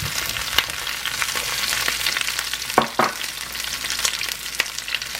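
Onion frying in a hot pan for a Laotian oxtail stew, a steady bright sizzle with occasional louder pops and stirring scrapes, close and continuous with no talking.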